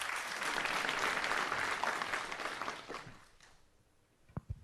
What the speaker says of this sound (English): You have to clap her.